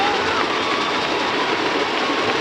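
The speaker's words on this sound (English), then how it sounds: "Listen to that crowd." A stadium crowd at a high school football game, Weatherford vs Brownwood, roars after a touchdown in a loud, continuous wash of cheering that holds steady throughout.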